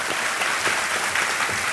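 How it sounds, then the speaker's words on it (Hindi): A quiz-show studio audience gives loud, dense applause, a steady wash of many hands clapping close by throughout, with no talk over it. "तालियों के साथ उनका स्वागत किया जाए, एक बार जोरदार ताली बज जाए।"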